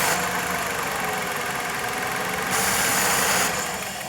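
A Dodge Caliber engine with a power brake booster vacuum leak idles steadily with a low, uneven rumble and a faint knocking roughness, continuous and close throughout.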